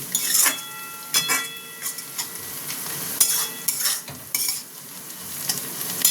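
A spiced vegetable filling with chaat masala, pepper and amchur frying in a pan, with repeated sharp scrapes and knocks of a spatula stirring it over a continuous sizzle.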